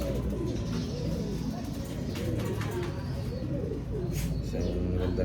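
Pigeons coo in low, soft, repeated murmurs over a dense, steady background, with occasional chirps and some faint talking.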